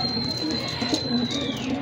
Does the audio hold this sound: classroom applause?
no